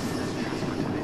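Rumbling railcar noise in a video game, a steady dense roll of a train close by with no voices over it, lasting about a second.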